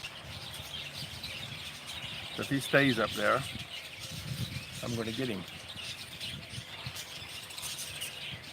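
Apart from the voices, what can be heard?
bird chirping outside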